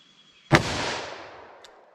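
A single sharp gunshot from a .327 Federal 2-inch snub-nose revolver, a loud close crack followed by a decaying echo tail, with a faint click shortly after.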